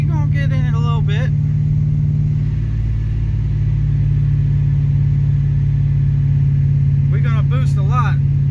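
TorqStorm-supercharged Ram pickup truck accelerating down a short straightaway, with a loud, steady, deep engine rumble heard from inside the cab and a voice talking briefly at the start and end.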